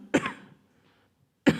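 Two sharp coughs, close and loud, separated by a second of near silence with faint breathy noise in between.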